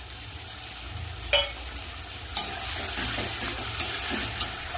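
Ground paste of cumin, ginger and dried chili frying in a pan for a spicy rohu fish curry, a steady sizzle with a few sharp clinks of a spatula scraping the pan.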